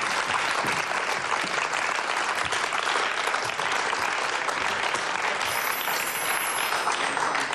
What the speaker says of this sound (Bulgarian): Силни аплодисменти за Марти.